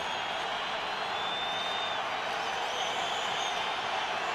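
A partisan stadium crowd roars at a Chiefs vs Broncos NFL game, a dense, sustained wash of cheering and noise filling the whole stretch at steady loudness, with a faint whistle-like tone drifting through.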